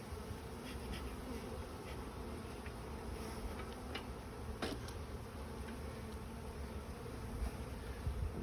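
Honeybees swarming around an open backyard hive of gentle worker bees, a constant close, dense buzzing drone with individual bees zipping past now and then.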